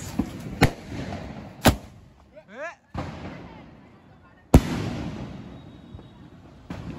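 Diwali skyshot fireworks going off outdoors: several sharp, loud bangs spaced seconds apart, with a brief rising whistle between them and voices talking faintly in the background.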